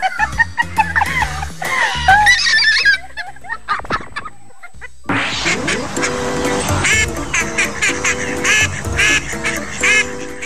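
Loud duck quacks in quick bursts, then a busy mix of quacking and other sounds continuing steadily to the end.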